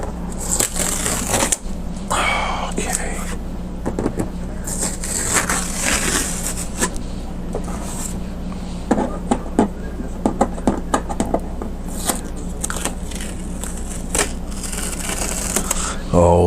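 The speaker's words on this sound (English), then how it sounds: "Let's take the tape off." Tape peeled off a finished painting: a run of dry tearing and crackling strips with sharp ticks, mixed with rustling and movement, spread across the clip alongside a steady low hum.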